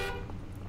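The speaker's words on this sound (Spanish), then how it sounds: "Buena bocina." Truck horn in SnowRunner, a single brief steady honk held for well under a second, loud and close, with no talk.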